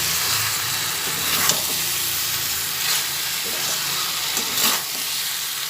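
Jackfruit curry stirred and sizzling in a pan after sugar is added, a steady frying hiss with occasional spoon scrapes and stirring sweeps close by.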